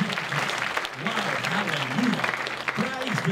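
Congregation applauding during a church service, a dense steady wash of clapping running under a voice that keeps speaking and exclaiming over it.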